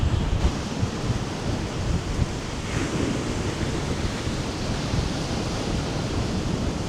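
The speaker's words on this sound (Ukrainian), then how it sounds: "Боже, який вітер" Strong storm wind on a seashore roars steadily throughout, a dense, gusty rush of broadband noise buffeting the microphone, with no voices.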